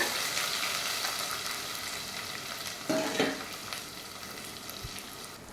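Shallots and garlic sauté in hot oil in a pan, giving a continuous soft sizzling hiss, with one brief louder burst of stirring midway, no voices.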